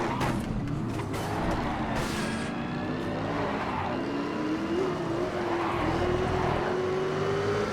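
V8 Supercar racing engines roar in the video game Race Driver Grid, a sustained droning engine note that climbs steadily in pitch as the car accelerates, with brief sharp bursts near the start.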